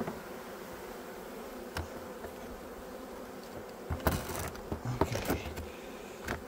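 Honeybees buzzing around beehives at season's end, a soft, steady drone of many insects in the background, with a few sharper rustles and clicks close by near the end.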